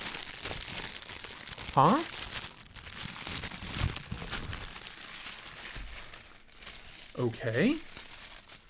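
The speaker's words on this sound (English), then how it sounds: "we have the knife wrapped in tissue paper, which is new for me. This is kind of a little ASMR." Knife being unwrapped from crinkly tissue paper, producing two bursts of close, sharp crinkling and rustling separated by quieter handling; a person speaks briefly.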